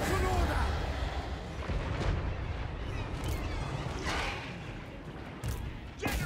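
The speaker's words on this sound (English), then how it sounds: "I don't like how they're just kind of hurting me with their annoying little cannons." Dwarf cannons fire in a Total War: Warhammer 3 battle, a string of booming shots and impacts layered over dense continuous battle noise, with a few sharper blasts standing out near the end.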